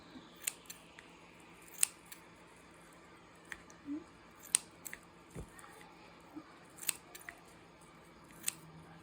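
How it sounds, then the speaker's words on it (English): Scissors snipping tulle in a quiet room, a dozen or so sharp, crisp clicks at irregular intervals, close but faint, with no talking. "But I'm just going to go in and cut it down a little more."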